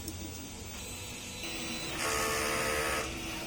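A DTF printer runs a head-clean cycle, giving a steady mechanical whirring and hissing that grows louder in stages and then eases off toward the end.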